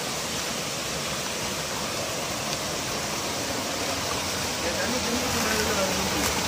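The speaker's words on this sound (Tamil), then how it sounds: "வாங்க இதை பாருங்கள் எப்படி தண்ணி வந்துட்டு இருக்குன்னு பாருங்கள்" Water gushes out of a gap in a rock tunnel into a canal on a hillside, a steady broadband rushing roar that stays loud and unbroken throughout.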